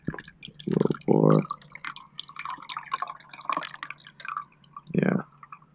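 Pour-over coffee drips and trickles through the grounds at a motorcycle campsite, with a few irregular splashy drips and soft liquid sounds close by and no talk.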